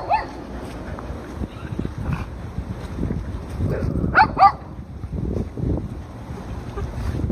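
Dogs, including sled dogs, barking at Lake Julian, with a couple of sharp, close barks standing out around the middle over a rumbling outdoor wind background.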